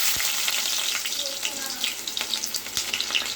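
Mustard seeds, onion, green chilli and tomato frying in hot oil for egg curry, a bright dense crackling sizzle with a few sharp pops and soft clicks, close and steady, no talking.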